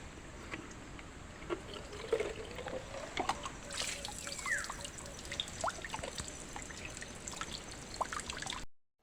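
Water trickles and splashes at an outdoor spot where people fetch water near the sea, a light irregular dribble with scattered drips and faint background activity.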